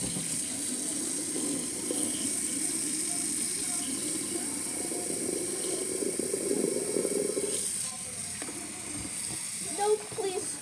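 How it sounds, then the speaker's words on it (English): Running water hisses and gushes steadily, like water filling inside a dishwasher, loud and close for several seconds before dropping away, followed by faint clicks and rattles. "Oh, water."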